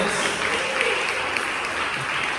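A church congregation applauds as an offering of praise during a Spanish-language service, a dense continuous crowd clapping at a steady level, with faint voices underneath.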